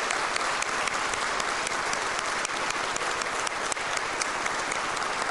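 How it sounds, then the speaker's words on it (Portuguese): Warm, sustained applause from an audience at a solemn legislative session, thick and even throughout with no voices rising above the clapping. "solicitar uma calorosa salva de palmas para todos os EPPGGs do Estado do Espírito Santo"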